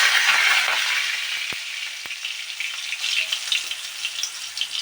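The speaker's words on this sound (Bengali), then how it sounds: "আমি একে একে করে পটলগুলোকে ভেজে নেব।" Pointed gourd (potol) pieces frying in hot mustard oil in a wok, a loud continuous bright sizzle with a couple of sharp clacks early on, easing slightly but staying steady throughout.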